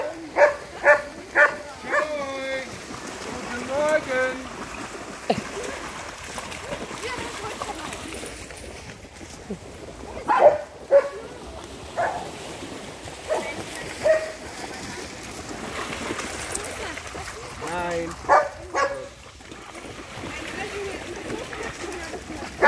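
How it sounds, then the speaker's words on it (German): Dogs bark repeatedly in short bursts, some close and loud, others spaced apart, mixed with people talking and a faint watery background throughout. "Es weiß jeder, dass hier Hunde sind."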